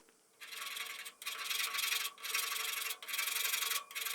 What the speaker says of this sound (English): I cleaned up the edges of the cuts with a thread file.